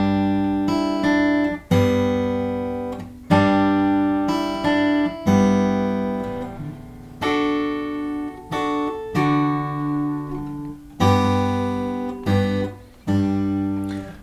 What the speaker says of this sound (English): a finger-picking version of Silent Night